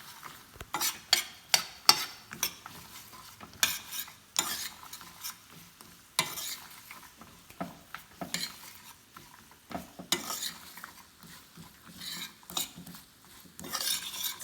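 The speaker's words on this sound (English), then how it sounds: "I'm going to keep stirring until it gets caramelized." Raw almonds are stirred in a pan as they caramelize with lavender, giving close, irregular scraping and clicking of the spoon and nuts against the pan, with short quiet gaps between bursts and no talking.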